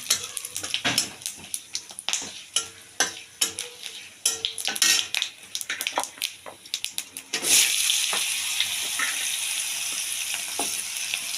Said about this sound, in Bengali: টমেটো আর বাঁধাকপিটা একটু ভাপিয়ে নিয়েছি আর এখন তেলের মধ্যে দিয়ে দিচ্ছি